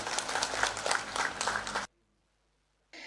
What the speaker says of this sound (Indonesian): Kalau ini boleh tepuk tangan untuk para direksi bertiga ini.